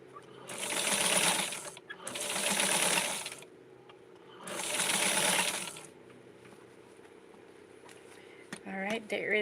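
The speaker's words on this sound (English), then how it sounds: "So let's sew it from here." Sewing machine stitching a doll dress, running in three loud bursts of a second or two each, with quiet pauses in between and faint handling sounds toward the end.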